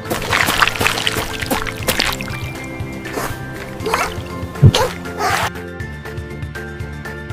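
Water pours and drips in several gurgling bursts, close by, over a soft musical background.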